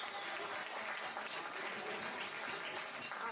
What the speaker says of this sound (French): Venez Arlette, sous les applaudissements d'un public en délire, mesdames et messieurs.